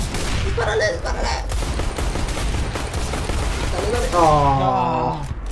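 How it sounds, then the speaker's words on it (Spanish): Gunfire in a Counter-Strike GO match, a brisk volley of shots mixed with excited shouting from players throughout. "¡Disparale, disparale!"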